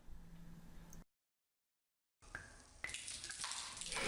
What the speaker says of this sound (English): It seems the water is coming out pretty fast, but notice all the sloshing around and turbulence.